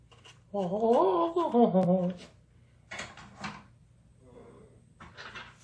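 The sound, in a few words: doors of a toy model train car being opened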